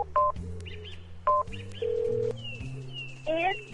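A phone in a video game dials out, with paired keypad tones and a steady dial tone, then a rising warbled electronic ring, all crisp and close against a low game ambience.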